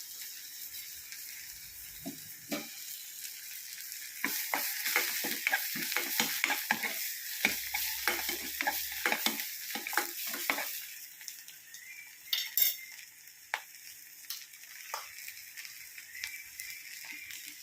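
Ginger, shallots and garlic fry in ghee in a pan for soup, a soft steady sizzle broken by quick scraping stirs and light clinks from the utensil, close but fairly quiet.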